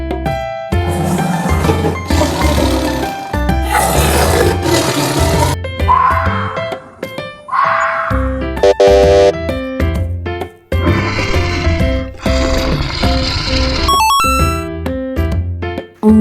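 A tiger roars and growls in several loud, rough bursts over playful children's game music, with shorter snarls in between.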